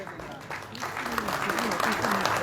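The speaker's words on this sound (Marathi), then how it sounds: "या सर्व कलाकारांसाठी जोरदार टाळ्या" Audience applause at a Marathi film festival inauguration in Goa, greeting the film's artists, producer and director: a steady broadband wash of clapping that swells after the first second and holds, with a voice speaking over it.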